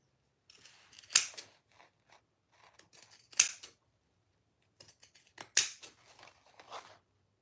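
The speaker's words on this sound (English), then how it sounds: "This is about the max layers for my pinking shears." Pinking shears snip through layered fabric in a few sharp, crisp crunching cuts with pauses between, close and fairly quiet in an otherwise still room.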